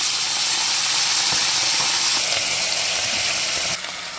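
Vinegar poured into a hot pan of onions and peppers for escovitch saltfish, giving a loud, steady sizzle and hiss that fills the whole stretch and drops slightly near the end.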